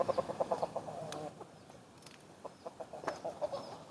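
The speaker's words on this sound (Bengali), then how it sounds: "এই যে মুরগিগুলা সব আমাকে দেখে আসছে" Free-range desi chickens cluck in quick bursts of short repeated notes, pausing and then resuming as the flock gathers nearby outdoors.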